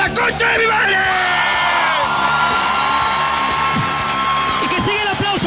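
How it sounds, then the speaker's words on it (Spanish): A live comedy-show audience in Barcelona cheers loudly throughout, with continuous whoops, yells and shouts and some clapping mixed into a dense crowd roar. "Y que siga el aplauso, más fuerte ese aplauso"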